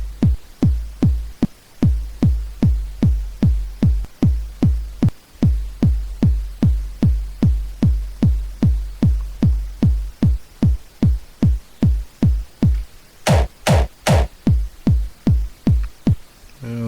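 A punchy synthesized hardstyle kick drum with a pogo effect, made in 3xOsc, thumps alone in a steady, fast, repeating rhythm, with a brief bright burst of higher sound near the end.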